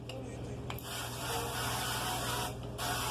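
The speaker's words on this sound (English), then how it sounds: "Avocado oil spray." A close, hissing spray of avocado oil cooking spray sounds in a few short bursts, the longest lasting around two seconds, over a low background hum.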